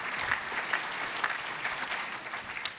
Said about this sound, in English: Another round of applause for Ed.